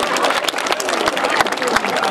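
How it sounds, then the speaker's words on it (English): Outdoor crowd applause at a National Night Out community event, dense continuous clapping with sharp individual claps close by, mixed with voices of the gathered crowd. "Let's give them a big round of applause to the committee who made this possible"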